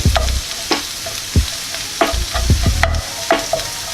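Ground meat fries in a hot pan while being stirred, with steady sizzling broken by repeated sharp scrapes and knocks of the utensil against the pan, close and fairly loud.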